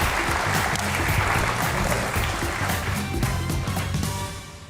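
Loud, sustained applause from a large studio audience fills the whole stretch, dense clapping that tapers slightly at the end.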